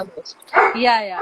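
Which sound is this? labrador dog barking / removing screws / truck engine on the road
labrador dog barking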